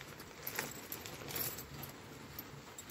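Small metal keys for an e-bike trunk and battery compartment lock jangle and clink lightly and continuously, close by with a brief bright tick partway through, against a hissy background.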